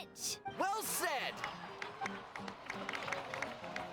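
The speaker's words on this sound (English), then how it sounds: "please give another round of applause for them" Crowd applause and cheering ring out in a Genshin Impact scene, a dense wash of clapping under a nearby speaking voice, fading to scattered claps and footsteps.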